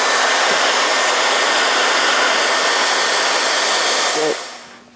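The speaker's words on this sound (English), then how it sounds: "once I get one side done, I might stop and use a hairdryer" A hair dryer blowing steadily on a sinamay hat edge, a loud, close, continuous whoosh that holds for several seconds before switching off and winding down near the end.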